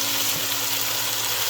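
Fire-roasted diced tomatoes stirred into a pot of hamburger tomato soup, a dense continuous sizzle and bubbling hiss, close and loud, with no talk.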